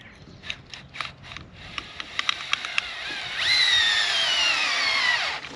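On a dairy farm, a power drill gives several short, sharp bursts, then runs in one sustained high whine for about two seconds before cutting off.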